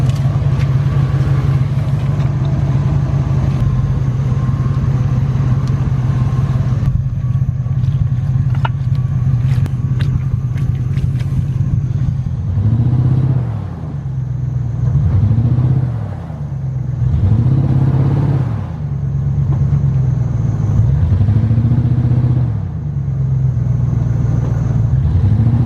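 Truck engine stuck in muddy ruts, droning at a low steady idle, then revving in repeated surges as it rocks forward and back, each rise and fall clearly audible and loud, with faint clatter underneath.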